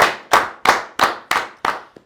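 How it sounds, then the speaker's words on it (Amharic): Six crisp, close hand claps ring out at a steady, unhurried pace, each a sharp isolated smack with a short decay and silence between, the last one softer. "ኧረ በጣም ጭብጨባ ያስፈልጋል።"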